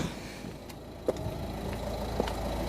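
A car pulls away with its engine running steadily after the trunk is shut, a low continuous road rumble with a couple of brief knocks and a faint soft voice.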